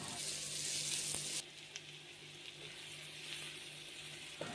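Finely chopped onions hit hot oil with garlic paste in a pan, giving a loud bright sizzle that drops to a softer steady frying hiss after a second or so, with a few small clinks of stirring.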